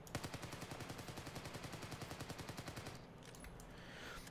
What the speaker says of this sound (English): This is the AK5C.